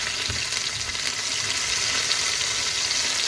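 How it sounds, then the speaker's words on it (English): Prawns fry in hot oil in a frying pan for jerk prawns, a steady, close, even sizzle without pauses or talking. "I've got some oil in the pot, the frying pan, and I'm going to place my prawns"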